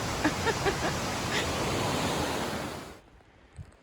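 Steady broadband roar of a mountain waterfall at Zealand Falls in the White Mountains, heard close and continuous for about three seconds before cutting to a quiet background with a faint knock.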